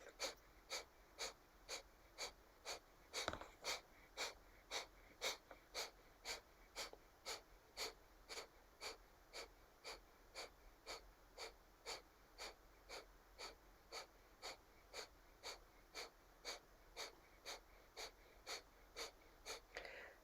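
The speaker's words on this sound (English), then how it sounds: "with breath of fire" Breath of fire yoga breathing: rapid, evenly spaced sharp exhalations repeat in a steady rhythm of about two per second, faint and close, with no talk.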